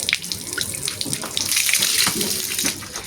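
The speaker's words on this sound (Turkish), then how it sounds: "Bakın su gayet temiz akıyor değil mi?" Water running through the radiator core of an Opel Astra F during a flush, a steady close splashing rush like an open tap that holds level and grows slightly fuller toward the end, with no talking.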